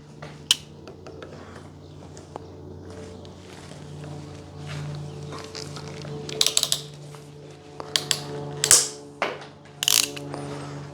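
A PEX crimp tool, switched to its cutting setting, snips off a crimp ring from the pipe, giving a few sharp metallic clicks and ratcheting snaps after a quiet stretch, with a low steady hum underneath.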